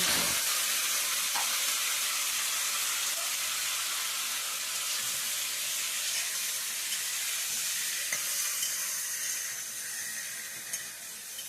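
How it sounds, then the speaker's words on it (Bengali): Nigella seeds crackle in hot oil before taro stalks go into the pan, making a continuous bright sizzle with faint pops that eases slightly toward the end. "কালি জিরেটা দেখুন ভালো করে ফেটে গেছে, কি সুন্দর ছেড়ে গেছে"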